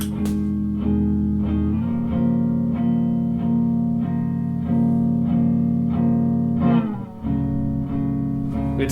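A song recording heavily slowed down with lowered pitch, a dense, murky guitar-led mix with warbling chorus and reverb, continuous and full, with a brief dip near the end.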